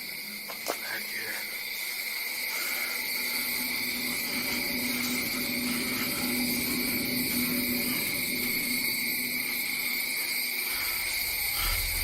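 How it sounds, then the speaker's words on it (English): Crickets chirp steadily outdoors at night near a small shack, a continuous shrill pulsing drone of several insects with faint hiss beneath. "Loud dragonflies, cricket bastards"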